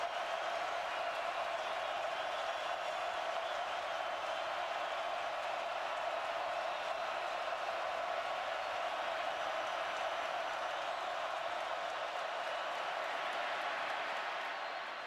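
Steady roar of a packed stadium crowd at an Alabama versus Florida college football game, a broad continuous wash of noise holding loud and even throughout without a break.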